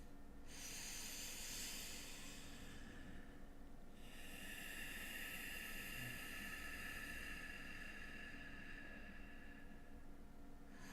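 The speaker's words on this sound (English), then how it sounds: "It's in through the nose, it's out through the nose." Slow breathing in and out through the nose during a breathing-technique demonstration: two long, soft airy hisses of roughly four and six seconds each, close-miked and alone over faint background hum.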